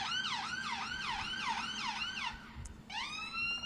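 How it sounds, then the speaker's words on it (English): Emergency vehicle sirens wail loudly in a fast, repeating rising-and-falling pattern near Redhill station, briefly cutting out and then resuming at full volume, with no talk over them. "The sirens blaring in the background."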